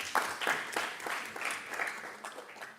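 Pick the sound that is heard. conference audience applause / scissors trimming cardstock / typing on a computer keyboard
conference audience applause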